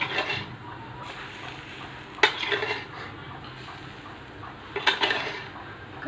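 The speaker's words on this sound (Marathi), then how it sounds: "आता थोडं तडक्याचं तेल घालायचं" Tempering oil being poured over dhokla, with clinks and scrapes of a metal spoon and pan, two brief bursts of crackling, and a soft sizzle in between.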